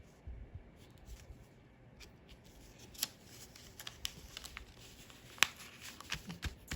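Scissors snip through paper folded for a doll dress pattern, giving sharp, scattered clicks and crisp cuts that grow more frequent, close and fairly quiet against low room noise.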